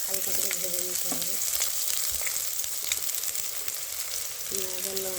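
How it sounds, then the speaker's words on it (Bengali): Onion and slit green chillies frying in oil give a continuous, fairly loud crackling sizzle close by, with a voice speaking briefly at the start and end. "পেঁয়াজ আর লঙ্কা চেরা দিয়ে দিলাম, সুন্দরভাবে হালকা করে লাল করে ভেজে নিতে হবে।"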